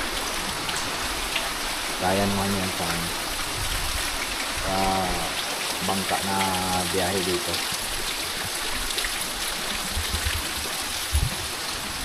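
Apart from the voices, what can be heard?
heavy rain and waves on island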